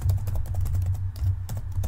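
Rapid keystrokes on a computer keyboard while scripting a Roblox game, a dense run of close clicks over a low background hum, with no voices.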